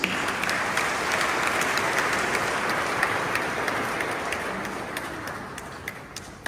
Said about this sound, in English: Just give him a round of applause to Jesus.